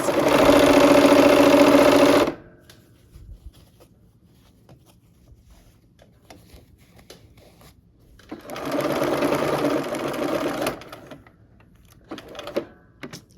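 Sewing machine stitching quilt blocks together, a loud steady mechanical whir for about two seconds, a quiet pause with small handling noises, then a second run of stitching, close up and with no talk.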